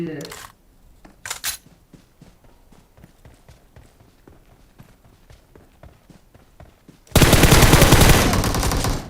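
Rapid SMG gunfire in a video game, a dense run of clipped shots under quiet player voices, ending in a sudden loud roaring burst.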